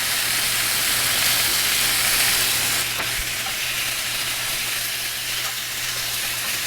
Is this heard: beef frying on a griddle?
yes